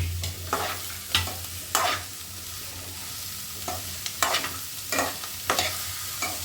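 Chopped chayote frying in a pan for a soy and chayote stir-fry, with a steady low sizzle broken by about ten sharp scraping strokes of a spatula as it is stirred, fairly close and with no talking.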